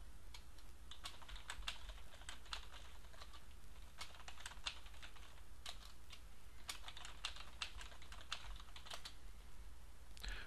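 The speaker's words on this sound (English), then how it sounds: "type the name of a new task, and press the Enter key" Quiet, rapid typing on a computer keyboard as task names are entered: a steady patter of light key clicks with occasional firmer taps, close and alone.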